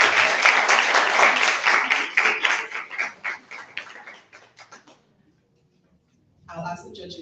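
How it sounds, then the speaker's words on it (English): An audience at an inter-secondary school debate between Wesley High School and Convent High School claps loudly and densely, then thins to scattered claps and stops, before a voice resumes talking. "Let us give them a round of applause."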